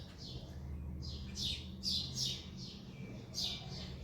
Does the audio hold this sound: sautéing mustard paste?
no